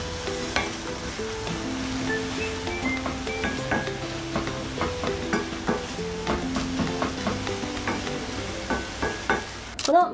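Onion and carrot frying with a little water in a pot, a gentle bubbling sizzle broken by repeated scraping and stirring clatters, close and steady without any talk.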